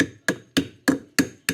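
A hammer taps a wheel bearing dust cover into place on a Kompact Kamp Mini Mate trailer, six sharp metallic strikes at a steady, even rhythm, close and clear with no talk.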